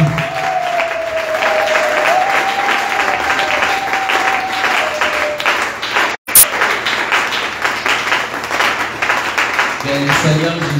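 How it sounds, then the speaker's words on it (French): A church congregation applauds for Jesus during a service, sustained dense clapping from a crowd over an amplified voice and a held tone, with a brief dropout midway before the clapping resumes. "acclamons pour Jésus"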